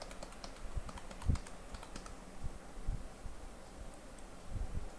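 Keys on a computer keyboard are struck in quick irregular bursts as a new password is typed, close and fairly quiet, with no talking.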